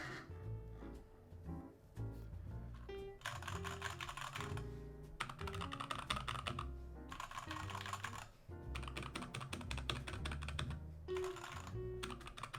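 A 1upkeyboards Sweet 16 keyboard with Telios switches and black-on-white cubic keycaps is typed on in quick, clattering bursts of close keystrokes, with short pauses between runs.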